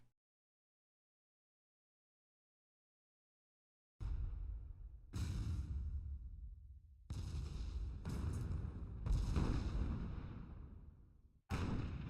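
Heavy carronade cannons firing in an airship battle game, several loud booming blasts a second or so apart after a stretch of silence, each with a long rumbling decay.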